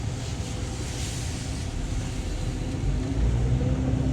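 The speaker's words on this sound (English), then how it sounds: "Engine is running smooth." A repaired car engine, a Chevrolet Aveo with a new valve cover gasket and a vacuum leak on the air intake tube, runs steadily during a test drive, a continuous close drone with a slight rise in level near the end.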